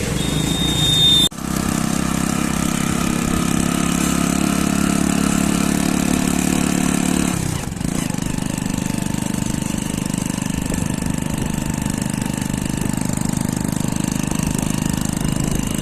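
An old motorcycle engine idles steadily with a rough, knocking mechanical chug, close and loud, broken by a brief clunk midway.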